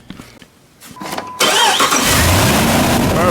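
A Jeep Grand Cherokee that is not charging its battery after an alternator replacement cranks briefly, then its engine catches and settles into a loud, steady idle up close. No speech.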